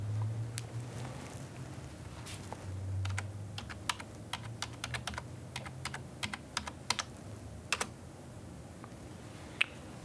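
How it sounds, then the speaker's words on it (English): Soft, quick keystrokes on a computer keyboard as an IP address is typed into a web browser, irregular clicks at close range over a faint background hum, with no speech. "you're going to want to type that into a web browser"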